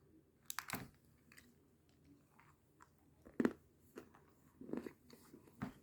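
Chewing a chocolate snack with graham cookies, peanuts and marshmallows: soft crunchy bites and chews come close to the mic in irregular bursts, with quiet pauses between them.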